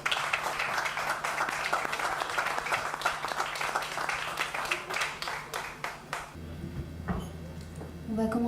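An audience at a live music session claps in dense, sustained applause that cuts off near the end, leaving a quieter room with a low hum and a few stray sounds.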